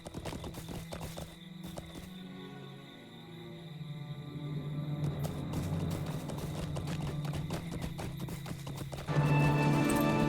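Hooves clip-clop steadily on a ridden horse in the game LOTRO, with crickets and dramatic music playing beneath the rhythmic hoofbeats, and the sound swells near the end.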